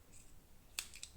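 Scissors snip through purple yarn for a crochet lavender hair clip, giving a couple of quick, close, crisp metallic clicks in quiet surroundings, the second cut following right after the first.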